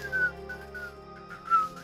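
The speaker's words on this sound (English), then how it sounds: "Whistle!" A melodic whistle tune plays inside a Dragon Quest video game, with steady tonal notes over soft game music and a brighter trill near the end, clear and moderately loud with no talking.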